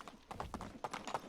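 Donkey hooves clip-clopping on the ground in Medieval Dynasty, a quiet steady rhythm of short knocking steps, about a dozen hoofbeats in quick succession.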